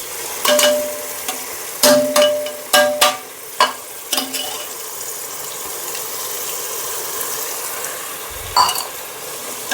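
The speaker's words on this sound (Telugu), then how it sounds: "కొత్తిమీర, పుదీనా ఫ్రై అయినాక కర్డ్ వేస్తున్నాను, పెరుగు వేస్తున్నాను." Curd going into frying coriander and mint for Andhra-style bagara rice, stirred with a spoon that clacks sharply against the pan several times over a steady soft sizzle.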